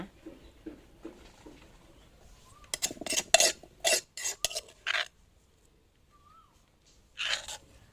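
Garlic is pounded coarsely in a mortar for a natural insect repellent, a short run of loud, irregular thuds and clacks close by, with quieter taps between them and a short pause before the final strike.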